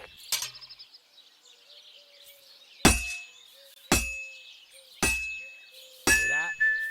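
A hammer strikes hot metal on an anvil in Kingdom Come: Deliverance II, five sharp ringing clangs spaced about a second apart with brief metallic decay between them.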